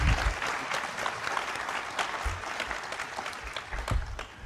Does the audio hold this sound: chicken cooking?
no